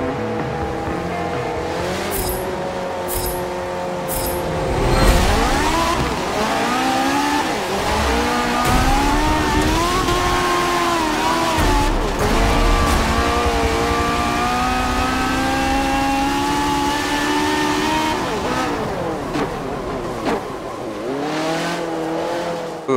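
A race car launches from the start in the video game Forza Motorsport 7, its engine revving hard through rising gear changes with tire squeal, loud and sustained, shifting repeatedly as it accelerates.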